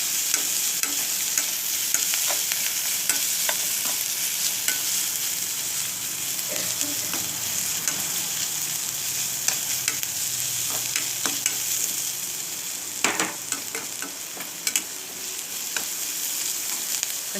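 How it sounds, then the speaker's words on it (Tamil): Ingredients for a Tamil kara kuzhambu sautéing in a pan, a steady oily sizzle with scattered stirring scrapes and clicks running throughout, fairly close and alone without any voices. "கொஞ்சம் வதங்கணும்."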